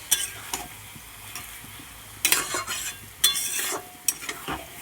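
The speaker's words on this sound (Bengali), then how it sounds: "এবার ভালো করে কষাবো।" A curry with lemon juice being stir-fried in a pan: a soft steady sizzle under repeated scraping strokes of a spatula against the metal, close and intermittent.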